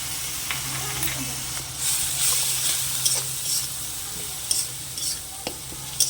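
Ginger-garlic paste sautéing with onions in a pan, a steady close sizzle with intermittent scraping stirs and light clinks of the spoon against the pan.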